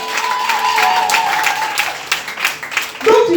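A church congregation breaks into sustained applause while acclaiming God, a steady wash of clapping across the whole stretch, with voices and a raised tone rising over it near the end.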